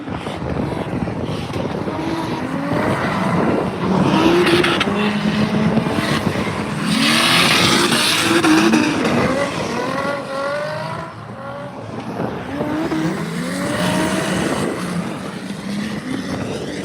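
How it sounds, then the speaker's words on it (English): A diesel Mercedes Touring drift car roars past with a sustained, loud engine note that rises and falls, while long tire squeal runs through it at a drift event. "Yes, that's the diesel Mercedes Touring."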